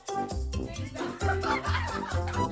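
Several cartoon roosters cluck and squawk excitedly at a contest, a lively burst of close, overlapping fowl calls repeating in quick succession.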